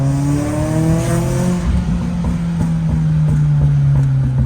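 A VW Golf GTI Mk1 with a 16V engine drives at low speed with a loud, throaty exhaust drone that rises and falls, with a few sharp popping bursts near the end and no talk.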